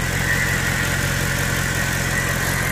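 A flood-damaged 2009 Mercedes C63 sits idling after Harvey flood waters, a steady low rumble with an even mid-frequency hum, smooth and unbroken, close by with no talk.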